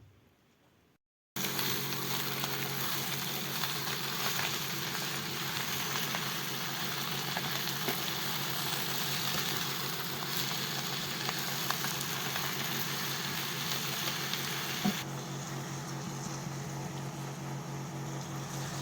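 Spinach frying in a pan gives a steady, dense sizzle that runs on without a break, close and fairly loud, after a brief quiet start.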